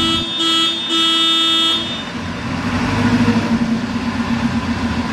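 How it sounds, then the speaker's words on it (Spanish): Horn of a Genie Z45/25N electric articulated boom lift, sounding as two loud, steady tonal blasts in quick succession near the start, the second one longer, followed by a rumbling motor and background noise. "Del lado izquierdo tenemos un switch, un botón que es para el claxon."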